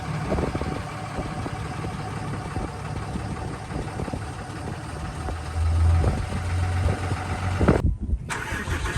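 A stock 6.7 Cummins diesel pickup truck engine idles steadily up close, a continuous low rumble with a slight swell in loudness near the end and a brief dropout just before it closes.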